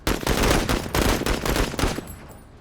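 Video game gunfire: a loud, close, continuous burst of rapid shots with a few distinct accents that fades into a decaying tail over the last half-second, with no voices.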